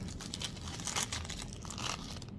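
Steady crinkling of a plastic bag being handled up close, a continuous crackly rustle with a few louder crunches, no voices.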